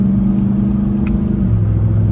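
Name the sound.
2024 Ram TRX V8 truck engine revving during upshift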